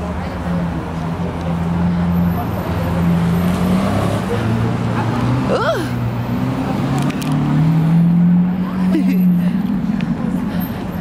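A Lamborghini drives past on a street in Europe, its engine drone swelling and fading over steady traffic noise while people talk nearby.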